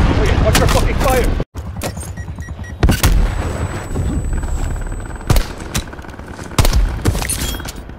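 Gunfire in the Call of Duty Plunder mode, with sharp, loud bursts of shots and booms scattered through the clip and a voice speaking over the action.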